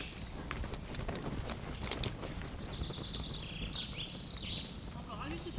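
Horse hooves trotting in a riding lesson, a rapid, steady patter over a dense, rough background, with bird chirps and faint voices around it.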